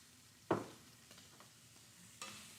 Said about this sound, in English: I wonder how the sound is with the sizzling.